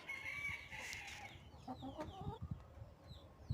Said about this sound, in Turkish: Bu da benim Bihter kızım, kara tavuğum arkadaşlar.